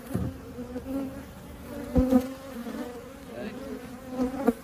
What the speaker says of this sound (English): See the bees on your camera.